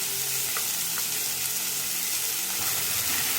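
Ground spice paste with asafoetida and coriander sautéing in a pan for yellow capsicum sambar, giving a steady, even sizzle and crackle throughout with no voices.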